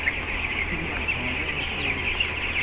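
Broiler chickens on a poultry farm, a dense flock clucking and chattering continuously, close and fairly loud, with no talking.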